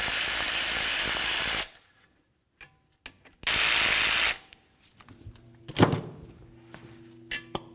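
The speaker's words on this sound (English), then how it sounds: "Now let's continue on by removing our caliper slider pins." A hand ratchet on Jeep Compass front brakes spins off the caliper slider pins in two loud, fast clicking bursts, with quieter metallic clinks and tool handling between and after.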